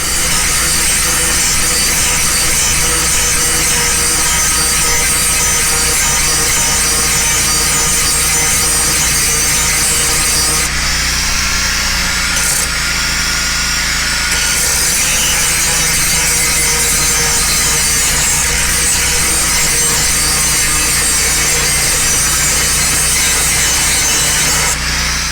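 A grinder works down a porous weld in an off-grid tiny house build, a loud, continuous abrasive rasp that runs nearly nonstop, easing briefly around the middle before resuming at full force.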